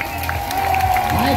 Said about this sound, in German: jetzt Applaus aus Aalen